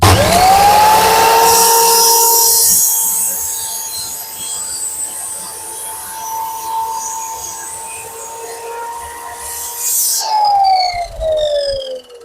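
A Procraft PGS217 miter saw, 1400 W with a 210 mm blade, spins up and cuts through hard wood nearly 7 cm thick, a loud steady motor whine that dips under load and winds down at the end.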